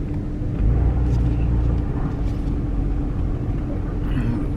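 A car passes along a lane as a steady, loud rumble of engine and tyres that fills the whole stretch, close by and constant, with faint background voices.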